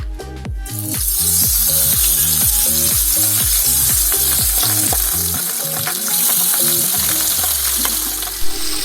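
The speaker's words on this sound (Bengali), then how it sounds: "তেলটা ভালোভাবে যখন গরম হয়ে যাবে তখন তার মধ্যে আমি মাছগুলো দিয়ে দেবো" Pabda fish frying in hot oil in a wok, a loud, steady broadband sizzle that swells after the first second and holds, with a rhythmic low thumping pattern underneath throughout.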